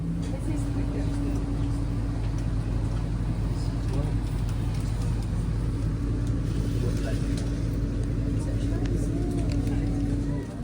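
Steady engine drone and road rumble fill the cabin of a National Express coach in motion, a constant low roar with no breaks, loud and close throughout.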